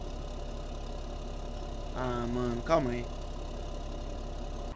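A New Holland T8 tractor idles in Farming Simulator 17, giving off a steady low engine drone that runs throughout while someone talks over it.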